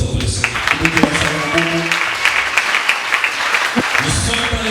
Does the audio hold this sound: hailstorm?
no